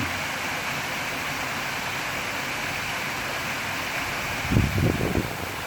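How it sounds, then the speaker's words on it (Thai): A waterfall pours into a clear, cool stream over rocks in Thailand, making a constant, full rush of falling and flowing water, with a brief low thumping near the end. "ฟังเสียงน้ำตก"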